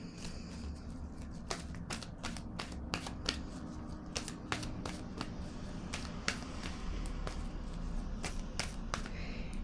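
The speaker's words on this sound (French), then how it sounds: "je vais piger une carte" Crisp flicks and light snaps of cards come from an oracle card deck as a card is drawn, a steady run of quick, close card sounds without talking.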